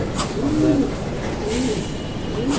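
Pigeons coo in rainy weather, low repeated rolling calls over a constant wash of rain-like noise that stays loud throughout, with no voices.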